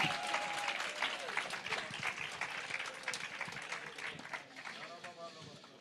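A church congregation applauds steadily and loudly throughout, a dense wash of clapping with crowd noise and voices mixed in.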